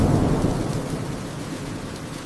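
A violent storm batters a hummingbird nest with loud rumbling thunder and heavy rain, a dense, continuous roar that eases slightly over two seconds.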